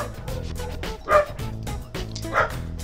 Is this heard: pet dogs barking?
yes